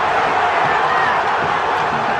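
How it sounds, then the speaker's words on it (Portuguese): A football stadium crowd roars at Vila Belmiro during Santos versus Grêmio in the Campeonato Brasileiro, a loud, sustained wash of cheering voices filling the whole stretch. "Esse som da torcida na Vila mostra o que aconteceu aqui, Quesada."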